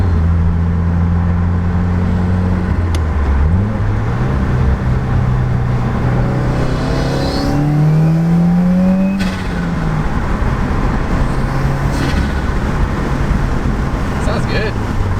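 A 2017 Subaru WRX with an Invidia N1 catback dual exhaust drives on a test run, its engine note rising and falling through gear changes, steady and loud from inside the cabin.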